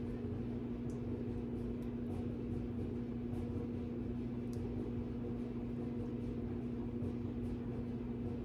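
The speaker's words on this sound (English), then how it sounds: "I have the dryer on in case you hear some rumbly tumbly stuff" A clothes dryer runs somewhere in a home kitchen, giving a steady, unbroken hum with a low drone underneath. It stays fairly loud and constant throughout, with no distinct tumbling thumps standing out and no one talking.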